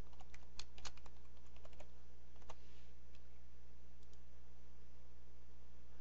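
Computer keyboard keys clicked in a quick burst of typing, entering a username and password, close and crisp, then tapering to a few scattered taps over a steady low hum.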